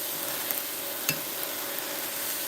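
Taco meat browning in a pan, a dense steady sizzle with a couple of brief utensil scrapes and a sharp tap near the middle.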